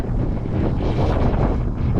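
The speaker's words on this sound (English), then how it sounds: "windy day here in Kotzebue" Steady wind buffeting the microphone in Kotzebue, Alaska, on the Arctic coast, a continuous low rumbling roar with gusty swells and no other clear sounds.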